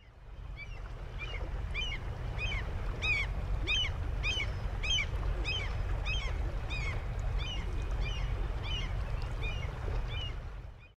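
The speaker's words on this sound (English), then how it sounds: "the other recording is of seagulls" A played recording of seagulls gives repeated high, chattering calls over a steady low rumble of wind or water, with the calls bunched in the middle and thinning out at the end.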